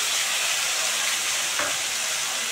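Onion, garlic and green chili paste fry in hot oil with potatoes and pointed gourd, giving a steady, close, dense sizzle and hiss with no talking.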